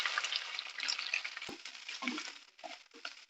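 Chopped onion and capsicum hit a pan of frying ginger and garlic, a close crackling sizzle with a sharp clatter partway through and brief stirring scrapes near the end.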